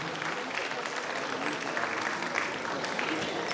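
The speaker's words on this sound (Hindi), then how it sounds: "कृपया जोरदार ताली से उनका भी अभिनंदन" A theatre audience at a stage play applauds steadily, a dense, even wash of clapping that holds at moderate volume throughout with no talk over it.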